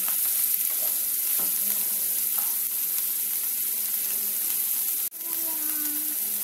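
Curry leaves and chillies sauté in a hot pan with a continuous, close, loud sizzle and a faint stirring click near the end; no one speaks.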